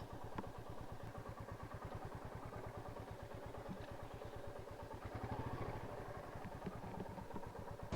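Rapid, steady putter of a motorcycle engine running nearby, with a brief rise in revs midway and no voices.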